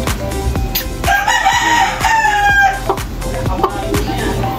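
A rooster with a cold crows loudly nearby, a drawn-out strained call, with other chickens clucking and sharp knocking sounds around it.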